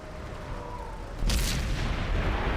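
E-100 tank cannon firing in World of Tanks, one heavy boom erupting midway and followed by a rolling low rumble that lingers on to the end.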